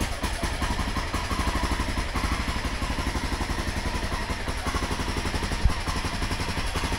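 A cold Honda XR650L enduro motorcycle idles on choke, its single-cylinder engine chugging in a fast, even, slightly uneven pulse close by, with one sharp clack near the end and no talking.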